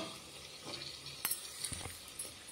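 Carrots dropped into a hot frying pan with ginger and garlic, giving a faint, low sizzle with a few light clinks of a utensil against the pan, no talking.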